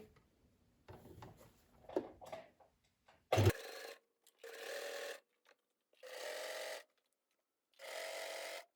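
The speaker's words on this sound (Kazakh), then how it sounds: "Шетінен 1 сантиметр аралықта тігіп шығамыз." A sewing machine stitches a fabric seam on a child's vest in short separate bursts of whirring, about four runs with pauses between, after some handling of fabric and a sharp clack, close and fairly quiet.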